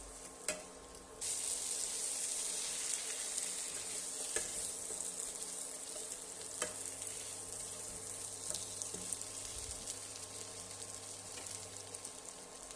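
Chicken kanti with masala frying in a pan, a loud continuous sizzle broken by occasional stirring scrapes, close and steady with no voices.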